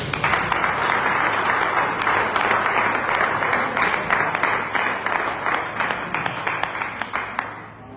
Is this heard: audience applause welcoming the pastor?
yes